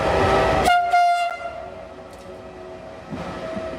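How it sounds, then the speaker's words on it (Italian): A Ferrovie dello Stato tourist express on the Agrigento Temples railway gives a long, loud horn blast as it arrives at Porto Empedocle central station, followed by rolling rumble and a further fainter horn sound. "Eccolo arrivato a destinazione nella stazione centrale di Porto Empedocle, il treno espresso turistico di Ferrovie dello Stato."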